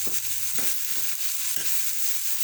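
Vegetables fry in a pan on an electric cooker, giving a steady close sizzle with a few soft stirring scrapes spaced through it and no talking.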